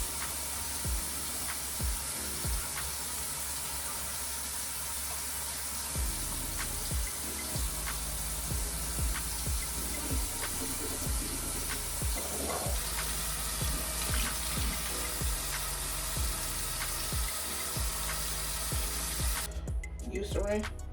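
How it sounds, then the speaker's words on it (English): Tap water runs steadily under quiet brushing and swishing at a bathroom sink, with a few soft knocks and clatters, the flow continuing alone without talk before ending with a louder splash. "Let me brush my teeth."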